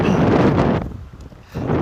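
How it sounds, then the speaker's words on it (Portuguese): Strong outdoor wind buffeting a headset microphone, loud rumbling gusts that drop briefly in the middle and then surge back. "Tá ventando bastante, então talvez vocês vão escutar isso"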